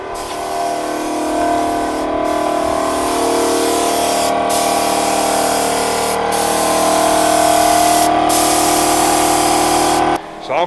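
Spray paint hisses steadily onto a rubbish skip in long continuous passes, loud and close, with a few brief pauses between bursts.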